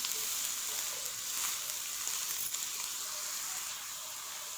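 Finely chopped onions frying in oil for masoor dal pulao give a steady, dense sizzle that stays even and close throughout, with no talking.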